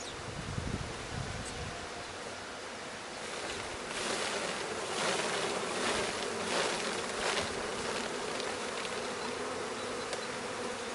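Honeybees buzz steadily throughout while queens are being introduced to a colony, a dense insect drone that swells louder midway, with a few brief knocks early on and no voices.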